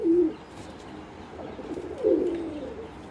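Pigeons gathered at a home feeding spot give two soft rolling coos about two seconds apart, close and alone against a quiet background.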